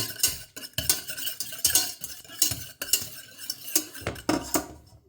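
A whisk beats egg yolks for hollandaise sauce in a pan, giving a rhythmic series of close, clinking metal strokes with short pauses between bursts.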